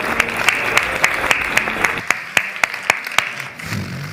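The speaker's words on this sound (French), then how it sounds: "On peut l'applaudir." An audience at a food and cooking festival masterclass applauds, a steady wash of clapping with sharp individual claps standing out, fading toward the end.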